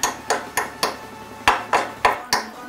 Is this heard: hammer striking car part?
yes